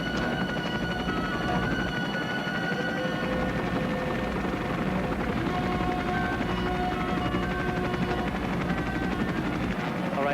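Helicopter hovering close beside a wall in icy mountain terrain during a cable rescue, a loud steady rotor and engine roar filling the whole span with faint radio voices underneath.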